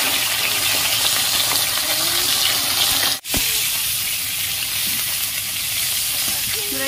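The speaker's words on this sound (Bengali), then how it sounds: "মাছগুলোকে এইভাবে লাল করে ভেজে নেব" Small pond fish fry in hot oil, giving a steady, dense sizzle that runs for the whole stretch, close by, broken only once by a brief dip, with no talking.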